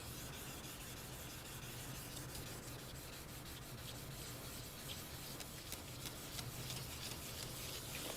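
Paint on a Honda GL1500 motorcycle is wet sanded by hand, a close, steady rhythmic rubbing and scraping that continues without break and without any voices.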